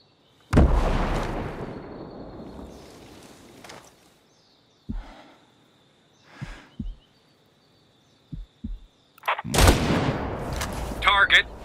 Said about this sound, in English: Watch out, frag grenade.